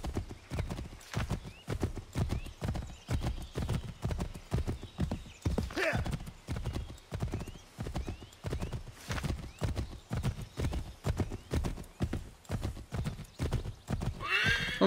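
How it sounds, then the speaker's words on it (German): Horse hooves clip-clop in a steady, fast galloping rhythm throughout, close and prominent, in the Assassin's Creed III video game, with a brief whinny partway through and someone talking over it. "Dann holen wir unser Pferd einfach mal."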